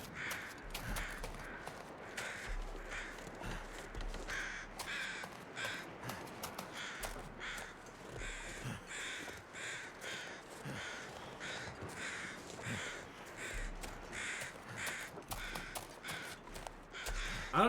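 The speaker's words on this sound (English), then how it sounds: "I hear crows over this hill." Crows cawing over a hill in the survival video game The Long Dark, repeated harsh caws in an irregular rhythm, fairly distant and quiet, with soft footsteps and wind beneath.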